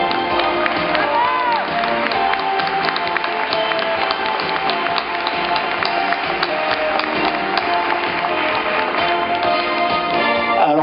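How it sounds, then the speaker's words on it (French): A crowd at a speech event claps steadily, with dense, crisp hand claps and a few cheers holding at an even, fairly loud level throughout. "vous demande d'applaudir Olivier"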